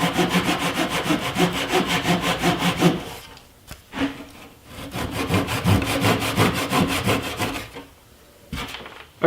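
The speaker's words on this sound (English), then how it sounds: "now I'm going to cut the plug flush with the tabletop with a pull saw" Steady back-and-forth pull saw strokes cutting a wooden plug flush with a ping pong tabletop, close and loud, in quick rhythm, a brief pause near four seconds, and a short burst at the end.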